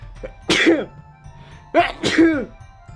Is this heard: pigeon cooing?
no